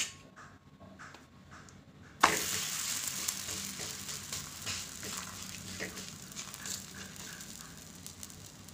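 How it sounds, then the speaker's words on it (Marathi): Corn flour thalipeeth frying in oil on a pan over medium gas: a steady, close sizzle begins abruptly as the dough meets the hot oil and continues evenly, alone with no talk. "हे आपण मीडियम गॅसवर भाजून घ्यायची"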